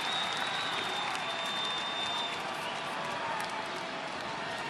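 Big baseball stadium crowd hollering and applauding at a Braves vs Cubs game, a steady, dense roar of clapping and shouts that holds level throughout, with a faint whistle early on.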